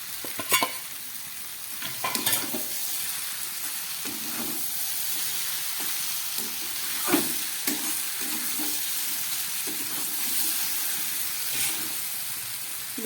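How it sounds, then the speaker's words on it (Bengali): Fried dried lote fish dropped into a hot pan with masala, a continuous close sizzle and hiss with occasional scraping stirs, no voices. "এবার দিয়ে দিচ্ছি ভেজে রাখা শুটকি মাছ"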